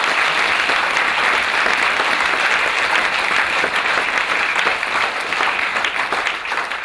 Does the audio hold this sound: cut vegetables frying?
no